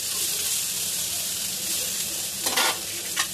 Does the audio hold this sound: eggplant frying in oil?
yes